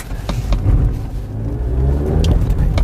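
Mazda CX-5 AWD compact crossover SUV climbing a hillside, its engine giving a steady low rumble and rising drone from inside the cabin, loud and continuous throughout.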